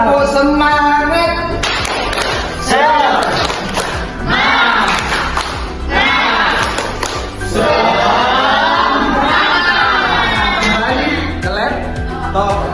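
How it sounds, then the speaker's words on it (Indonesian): A classroom of students doing a rhythmic spirit clap during an Indonesian Ramadan fasting lesson, with bursts of patterned clapping and chanting voices, loud and close, filling most of the stretch. "Tepuk semangat."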